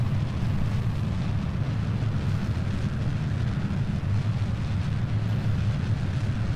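Rocket engine roars continuously during launch in Kerbal Space Program, a dense, steady low rumble with no breaks and no voices.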